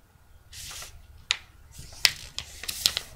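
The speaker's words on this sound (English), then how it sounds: "So grab your first sheet of printer paper. Just fold it in half." A sheet of printer paper is folded and creased by hand, giving soft rustling followed by several sharp, crisp snaps and scrapes as the crease is pressed down, close up and otherwise quiet.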